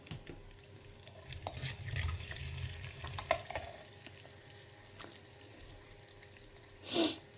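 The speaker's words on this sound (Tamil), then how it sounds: "இப்போ கடுகு வந்து லேசாக பொரிய ஆரம்பிக்கிறது" Mustard seeds begin spluttering in hot oil with faint irregular pops over a low sizzle, utensil clinks here and there, and a short louder burst near the end.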